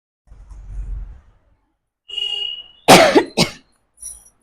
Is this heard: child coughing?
yes